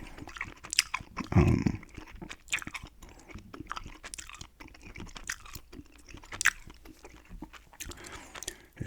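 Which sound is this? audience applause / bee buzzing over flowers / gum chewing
gum chewing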